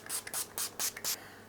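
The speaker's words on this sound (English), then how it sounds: "We're going to get a little bit of hydration in the skin from a facial spray as well, and I'm going to use the Pixie Glow Mist for this." Pixie Glow Mist facial spray spritzed onto the face in five short, close hissing bursts with brief gaps between them, no talking.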